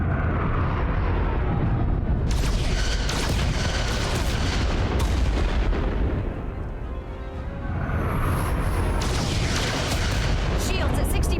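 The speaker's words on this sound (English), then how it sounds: "Fire photon torpedoes!" Photon torpedoes firing from a starship in the Star Trek: Resurgence video game, loud rumbling booms and blasts rolling continuously with bright crackling bursts, heavy and close, with a voice speaking over the barrage.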